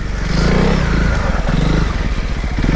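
A Honda CRF300 Rally motorcycle rides through shallow ruts on a dirt lane, its mid-pitched engine droning steadily and close with a brief rev and some clattering scrapes, no voices.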